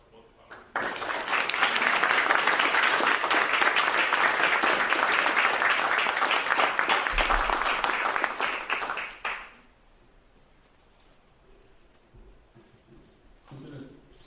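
An audience at a congressional caucus launch event breaks into sustained, even applause lasting several seconds, then stops suddenly, leaving quiet room tone and a faint voice.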